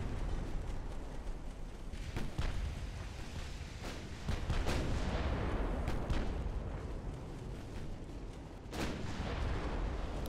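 Battleship 10-inch guns fire in the naval video game Ultimate Admiral Dreadnoughts, several deep booming blasts at irregular intervals rolling over a constant dull rumble of sea and battle ambience.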